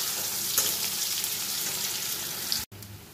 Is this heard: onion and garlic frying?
yes